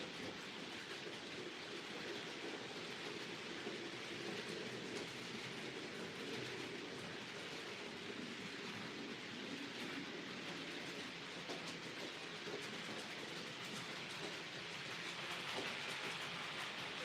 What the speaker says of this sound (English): it runs through my goods yards at a reasonably realistic slow speed for shunting